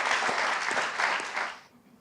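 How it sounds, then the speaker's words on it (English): An audience gives a round of applause for a panel at a talk, a dense wash of clapping that holds steady and then fades away quickly near the end. "A round of applause for our panel so far."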